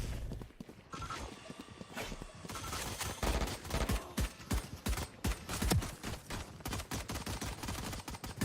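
Gunfire in the video game Valorant, dense rapid bursts of shots clattering loudly and near, with rhythmic volleys repeating over several seconds.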